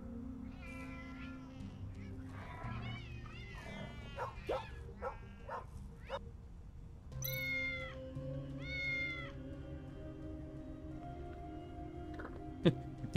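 A cat meows in several drawn-out calls, then a second cluster of higher meows, fairly faint with a low background hum and a sharp click near the end.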